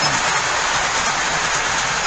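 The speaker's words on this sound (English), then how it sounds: "that nice heavy train that just went by" A heavy train rolls past close by, a loud, continuous broadband rumble and rush that holds steady throughout with no voices.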